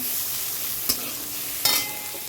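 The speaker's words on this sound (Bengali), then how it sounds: "আলু উচ্ছে চচ্চড়ি করে নিচ্ছি যে টমেটো দিয়েছি এর মধ্যে আর কাঁচা লঙ্কা দিচ্ছি" Potato and bitter gourd curry with tomato and green chillies fries in a pan with a soft, steady sizzle. Two brief clacks of stirring break the hiss.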